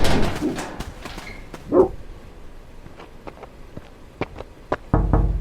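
Dogs bark in a rural Midwestern setting, one prominent close bark among scattered sharp knocks and clicks, with a burst of louder noise at the end.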